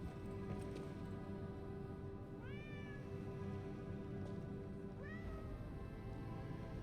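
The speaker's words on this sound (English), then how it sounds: "Where is the cat?" A cat meows twice in the video game Lies of P, two clear rising calls a few seconds apart over a steady low ambient hum, with no talking.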